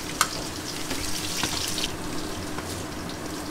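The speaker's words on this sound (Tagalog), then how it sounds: "Pagpainit sa yung mantika, lagyan na natin yung bawang." Garlic sizzles in hot oil while pinapaitan is being prepared, giving a steady, close frying hiss with one brief sharp pop near the start.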